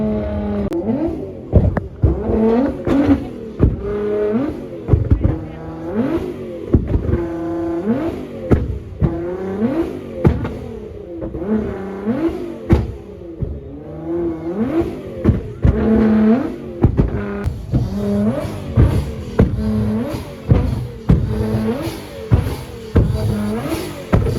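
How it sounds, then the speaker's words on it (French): A Nissan GT-R Nismo engine revs hard again and again at a car meet. The loud bursts rise and fall in rapid succession, with crackles and pops between them. No speech. "la GTR qui va faire des flammes"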